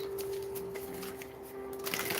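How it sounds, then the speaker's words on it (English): Tarot cards being shuffled in soft, riffling bursts, close by, over a steady low electrical hum. "So one or two more shuffles."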